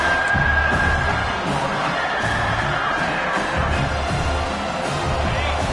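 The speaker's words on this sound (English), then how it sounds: "Third down play in the red zone, and this crowd is at fever pitch." American football stadium crowd roaring steadily at fever pitch before a third-down play in the red zone, a dense, continuous wall of cheering and shouting with no distinct voices standing out.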